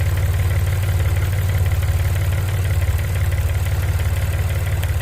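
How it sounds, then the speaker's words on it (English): Audi car engine idling steadily with a low, even rumble and constant drone, close and continuous with no voices. "we've got the engine running"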